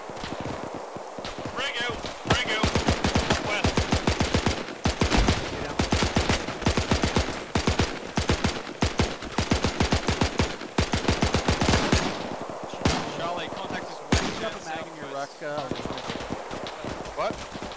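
MG42 machine gun fire in a tactical military shooter game, long rapid bursts of dense, loud gunfire repeating across the clip, mixed with other shots and with players talking over it.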